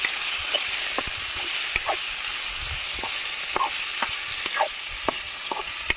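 Chicken pieces sizzle in hot oil with a constant bright hiss, while a spoon stirs and scrapes the pan in repeated short clanks and knocks.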